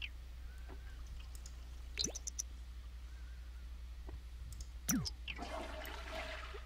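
A toilet flush in The Sims 4 gurgles faintly over a steady low hum, with scattered clicks and small game chirps before a brief rush of water near the end.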